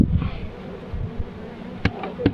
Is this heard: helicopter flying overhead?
no